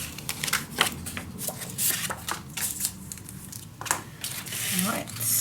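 Paper for a handmade mini album being folded and handled close up, with repeated crisp crinkles, rustles and creases; a voice talks underneath.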